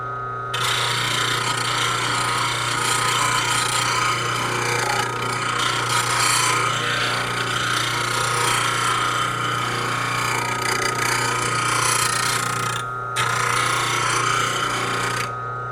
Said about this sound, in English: I ground 3 skew chisels that hadn't been on a grinder